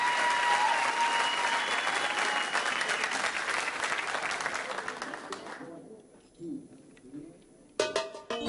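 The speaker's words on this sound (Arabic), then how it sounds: "نسقف لكاميليا ونشجعها تشجيع جامد جدا" An audience at a televised singing contest applauds a contestant: dense, sustained clapping with cheering that fades after about five seconds, followed by a short burst of clapping near the end. A host speaks over it.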